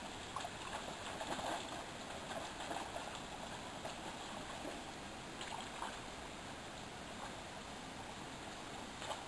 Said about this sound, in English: Listening to and watching that water babble down over the rocks is just something else.